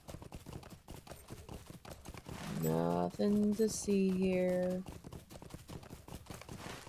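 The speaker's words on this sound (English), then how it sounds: "Leave me and my horse alone. We just riding through." Horse hooves clip-clop in a steady rhythm while riding through a fantasy video game landscape, loud and close for a few seconds, with someone talking over the game audio before and after.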